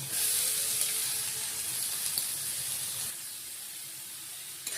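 A large chopped onion goes into hot oil with a scorched whole-spice tempering for chana masala. A loud, steady hiss fills the first few seconds, then eases slightly to a softer sizzle, with no voices.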